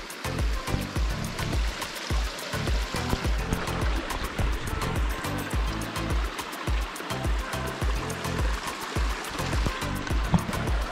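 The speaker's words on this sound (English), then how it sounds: "we found this tiny little waterfall, more of just like snow melt" A tiny snowmelt waterfall spills into a small stream on a Spanish Pyrenees trail near Broto, a steady close rushing and splashing of water with no voices.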